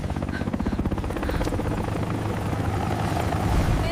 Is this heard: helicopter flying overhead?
yes